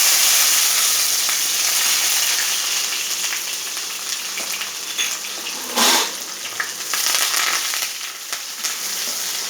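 Onion, green chilli and curry leaves hit hot oil already tempered with mustard seeds, urad dal and fennel. The result is a dense, continuous hissing sizzle with scattered crackles and a louder spattering burst midway.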